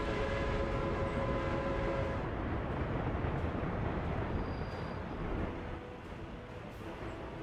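A train rolls steadily through the rail city-building game Workers & Resources, a loud continuous rumble with sustained tonal hum in the first half, easing slightly toward the end.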